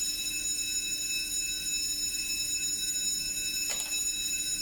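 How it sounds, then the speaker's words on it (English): A school bell rings for break time as a continuous, steady electric tone that holds without pause for the whole stretch, fairly loud and with no voices. "That's just a bell for break time."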